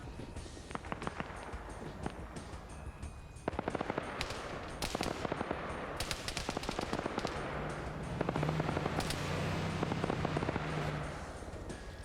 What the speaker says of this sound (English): you got the PKM now firing at those two, that sniper-spotter combo